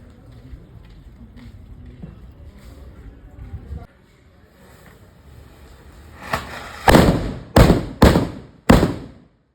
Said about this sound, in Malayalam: നമുക്ക് അവിടെ വഴിപാട് കഥന പൊട്ടിക്കാൻ പറ്റും കേട്ടോ